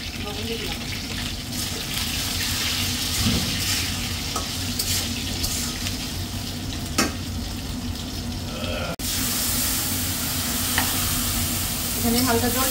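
Potatoes, bitter gourd and eggplant fry in a pan with salt, giving a continuous close sizzle with scraping stirs and occasional utensil clinks, while a voice talks faintly in the background.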